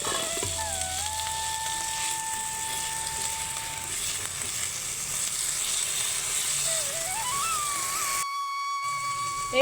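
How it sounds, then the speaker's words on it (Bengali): Chopped potatoes and green chilies fry in a pan with a steady, close sizzle. Faint whistling tones drift over it before the sound cuts off abruptly near the end. "তো আমি এখন কুচনো আলুগুলোও দিয়ে দিচ্ছি, একসঙ্গে ভাজা হয়ে যাবে।"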